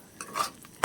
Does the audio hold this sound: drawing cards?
no